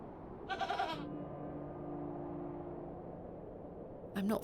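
A goat named Eunice in the video game Hob's Barrow bleats twice, one wavering bleat early and a shorter, louder one at the end, with a low, steady game drone between them.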